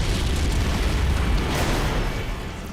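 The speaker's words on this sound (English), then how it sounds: "we're going to be showing an explosion which uses some of the same techniques that we use in film visual effects" A fireball explosion effect built in Unreal Engine 4 rumbles continuously, a loud, dense low roar with broadband crackle that swells and holds for nearly three seconds before easing slightly, with no voices.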